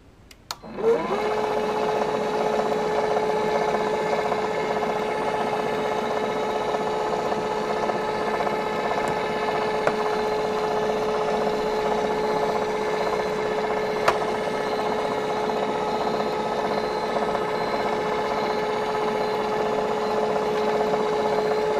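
A submerged tubular motor (MIT1210/3210) runs during a fault test, giving a steady, continuous mechanical hum with a sustained whine that starts abruptly after a click and holds evenly throughout, fairly close.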